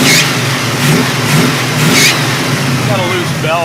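A 1974 Oldsmobile Omega's 350 Rocket engine runs with a loose belt, a close mid-pitched engine drone with a couple of brief squealing chirps near the end.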